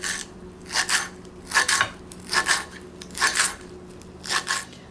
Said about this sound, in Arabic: عندي شوية بقدونس رح افرمهم فرم ناعم